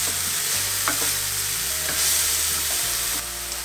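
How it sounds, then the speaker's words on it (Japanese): Frozen chopped onions stir-frying in hot oil make a steady, loud sizzle, with spatula scrapes and stirring bumps on top and no voices. "油を敷いて冷凍刻み玉ねぎを炒めましょう"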